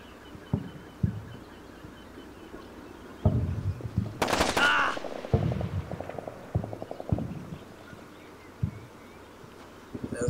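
A firefight in the video game Combat Mission Shock Force: scattered single gunshots and short bursts at a distance, with one louder sharp crack, over a quiet background.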